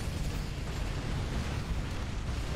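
Heavy, rumbling explosions in the video game Earth Defense Force: Iron Rain, a continuous dense low boom rolling through without pause.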